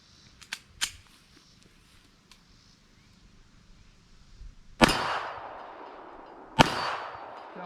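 A Smith and Wesson M&P Shield 380 EZ pistol fires two loud, sharp gunshots a couple of seconds apart, each trailing off in a brief ringing decay, after a few fainter clicks and handling noises.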